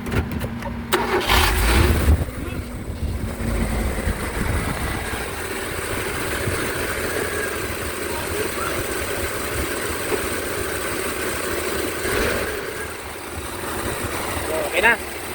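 Mazda Bongo engine turning over and settling into a steady mid-pitched idle, close by, with people talking over it and a brief rise in revs near the end.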